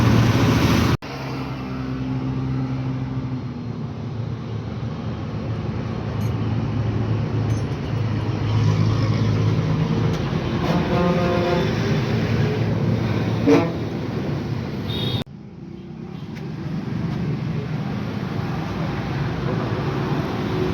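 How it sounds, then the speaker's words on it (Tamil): A truck engine started with a battery after its own battery went flat. It roars into a steady, loud idle after a brief opening noise, runs continuously, and dips briefly near the end. "அது பேட்ரி வச்சு ஸ்டார்ட் பண்ணுறதை வந்து இப்போ நான் காட்டுறேன் பாருங்கள்."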